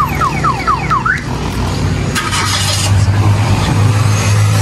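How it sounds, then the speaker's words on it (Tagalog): A car alarm goes off nearby with a rapid series of rising, sweeping chirps, then falls silent while a car engine and traffic rumble continue steadily underneath. "Nag-a-alarm."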